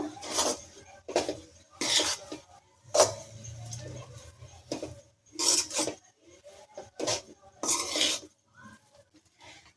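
A spoon scrapes and clatters against a metal pot as temple-style gojjavalakki, beaten rice prasadam, is mixed, with bursts of repeated stirring strokes and a voice talking in between.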